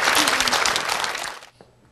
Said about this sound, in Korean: 수원에서 오신 통큰포도 김지원 씨를 큰 박수 부탁드리겠습니다